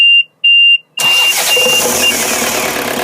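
A Yanmar 4JHE diesel engine aboard a 25-foot trawler cranks over after two short electrical beeps, catches and settles into a steady, loud, close rumble.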